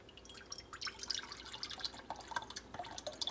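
Melted homemade salve is poured from a container back into a crock pot, giving a quick run of light, irregular drips and splashes that sound fairly quiet and close.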